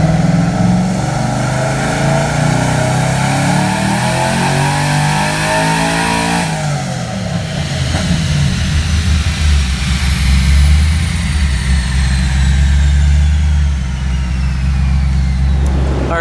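A car engine running a G48 nitrous kit on a 200 shot roars loud and close as it revs up through a long pull, then drops off and settles into a deep, heavy drone.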